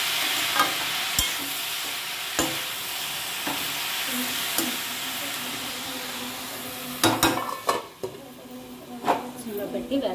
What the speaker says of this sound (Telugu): ఇలా వేయించేసుకోవాలి